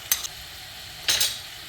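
Ginger and black pepper going into a hot pan, two brief bursts of frying sizzle with stirring scrapes, the second louder, over a quiet background.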